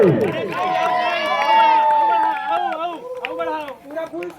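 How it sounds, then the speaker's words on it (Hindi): A crowd shouts and cheers during a balloon contest at the Teeja-Pora festival in Akola village, Chhattisgarh. Loud, sustained voices swell near the start, then break into rougher, choppier shouts. "ताली बजाओ, ताली बजाओ, लोगों ने हल्ला करके"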